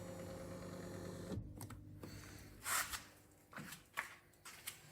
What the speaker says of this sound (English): So we can move the seat forward and rearward to tighten the bolts.